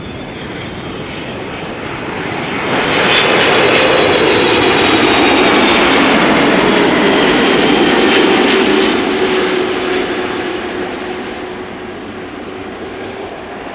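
An aircraft arriving at Amsterdam Schiphol Airport passes close and loud, its engine roar swelling, holding for several seconds, then easing off as it moves away.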